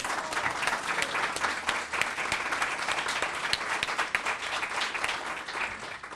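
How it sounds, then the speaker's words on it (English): A round of applause from the audience at a tree summit, steady dense clapping from many hands that continues evenly without talk. "we should give him a round of applause"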